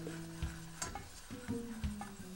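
Flour whisked into hot oil in a pan on low heat for homemade enchilada sauce, quiet rhythmic metal clinks and scrapes of the whisk over a soft sizzle, close and without speech.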